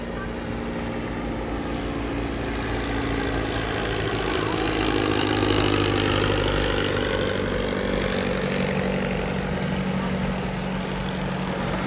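A mid-1920s English Electric Wren light aeroplane drones overhead at an evening air show, its small engine giving a steady buzzing hum that swells slightly as it passes, moderately loud against open-air background.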